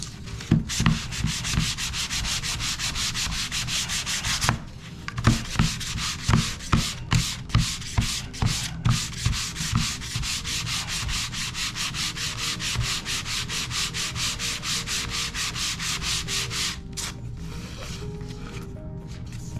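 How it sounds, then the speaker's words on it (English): Sandpaper is rubbed by hand over the edge of a handmade leather belt with rapid, rhythmic back-and-forth scratching strokes, close and steady, pausing briefly a couple of times. "I think we could need sanding a little bit more"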